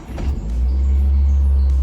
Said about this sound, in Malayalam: നമുക്ക് ഇനി സ്റ്റാർട്ട് ചെയ്ത് നോക്കാം.